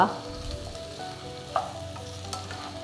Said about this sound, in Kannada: ಸೊ ಹಾಗಾಗಿ ನಾವು ಓಪನ್ ಪ್ಯಾನಲ್ಲೇ ಬೇಯಿಸ್ಕೊಳ್ಳುವ